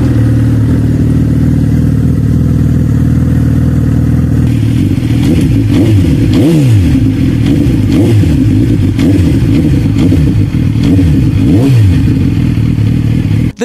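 A Suzuki naked motorcycle's engine idles loudly and steadily up close, then is blipped several times in quick revs that rise and fall in pitch over the ongoing rumble, with no talk.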